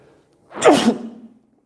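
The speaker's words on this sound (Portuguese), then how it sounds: "a cada 3 horas um espirro" A single sharp, close sneeze bursts out in the quiet, then trails off.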